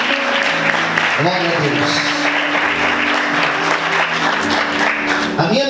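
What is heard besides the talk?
church congregation applauding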